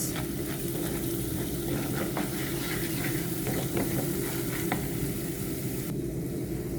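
Spicy buttered garlic shrimp frying in a pan, a continuous close sizzle with intermittent scraping stir strokes at a steady low level.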